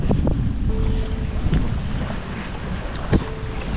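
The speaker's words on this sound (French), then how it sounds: "le vent ne s'est toujours pas calmé" Strong gusts buffet the microphone beside a gravel-pit lake during a solo carp fishing trip, a loud steady rumble with brief thumps and faint water lapping.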